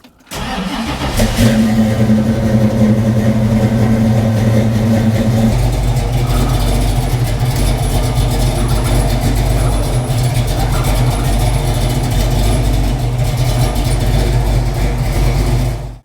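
A truck engine starts and settles into a steady, loud, low rumbling idle that runs continuously for the rest of the clip.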